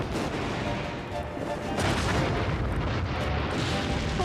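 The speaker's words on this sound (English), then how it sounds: "The explosion's part of the ride." A cartoon explosion on an amusement ride booms and rumbles as one continuous loud blast, with dense noise and no speech.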